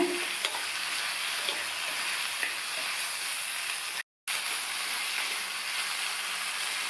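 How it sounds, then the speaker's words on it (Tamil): Continuous sizzle of brinjal and capsicum cooking with spices and salt in a pan, with light scraping and stirring, broken by a brief moment of silence. "இந்த டிஷ்ஷுக்கு தேவையான அளவு உப்பு சேர்த்து நல்லா கலந்து விட்டுக்கோங்க."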